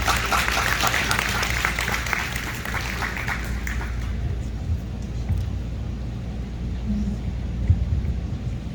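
Sustained audience applause at a meet-and-greet talk fills the first four seconds, dense and close, then fades into a murmuring room with low rumble.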